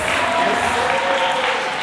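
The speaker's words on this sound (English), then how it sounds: "give a round of applause for our authors that are here today" An audience at a book launch applauds its authors with a steady, dense round of clapping that holds at an even level throughout.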